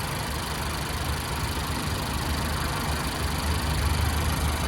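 A 4-cylinder turbo engine in a 2022 Acura TLX A-Spec idles steadily with the hood open, a smooth continuous hum heard close up with no talking.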